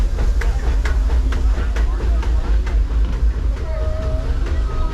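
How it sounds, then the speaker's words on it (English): A train passes nearby outdoors, a steady broadband rumble and hiss that lasts throughout while a person talks over it. "Train's going by right there."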